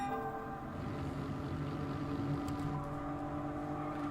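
A car horn in Gran Turismo 7 sounds as a steady, sustained tonal honk held under continuous engine and road noise from the racing game.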